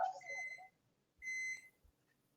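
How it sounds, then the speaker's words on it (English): Microwave beeps twice, each a thin high electronic tone with a bright ringing overtone, the second beep clearer, set against faint room noise and a brief earlier bit of sound. "That come from you, that beeping sound? Oh, yeah, that's my microwave."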